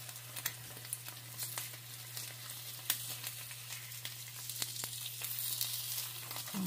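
Several whole eggs frying in a pan, a faint, steady sizzle with scattered crackles and pops and a constant low hum beneath.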